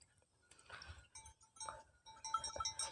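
Chevari goats on a farm near Udumalaipettai bleat in short, scattered calls, several animals overlapping at moderate distance with soft background clatter, no speech.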